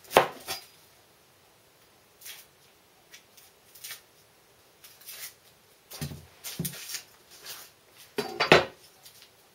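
A knife cutting an onion on a board: scattered short scrapes and knocks of the blade with quiet gaps between them, close by, ending in a louder clattering cluster.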